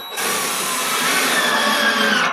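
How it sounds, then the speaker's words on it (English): A power drill drives screws into a willow chair frame, one steady continuous whir that runs loud and close for the whole stretch. "Get my other drill."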